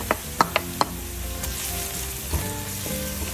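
Chili flakes and garlic sizzle steadily in a hot pan for chorizo pasta, a continuous frying hiss broken by a few sharp utensil clicks and taps near the start and again around two and a half seconds.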